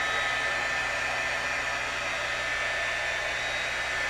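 A handheld heat tool blows steadily over a watercolor card, producing a constant close, airy whir with an electric hum and no pauses or talk.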